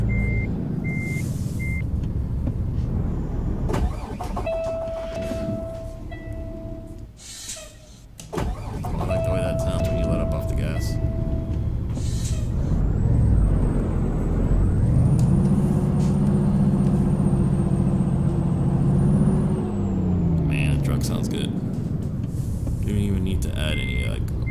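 A truck in Euro Truck Simulator 2 starts up amid clicks, beeps and hissing air brakes, then its engine rises to a loud, swelling rumble and settles, while a voice talks over parts of it.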